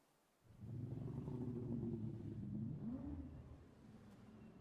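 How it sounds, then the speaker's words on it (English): Motorcycle engine revving, heard in the video game Dwarf Fortress: a faint, steady mid-low engine rumble that swells, holds for a few seconds and then eases off, with no talking. "Did I just hear a fucking motorcycle in my dwarf fortress?"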